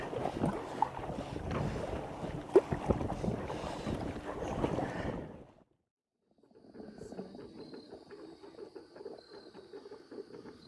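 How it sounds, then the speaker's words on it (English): A canoe or kayak is paddled on a lake into waves and a headwind, giving steady, loud wind buffeting and water splashing. A brief silence follows, then quieter rhythmic water sloshing and paddle strokes return. "Paddling into the waves and paddling into the wind."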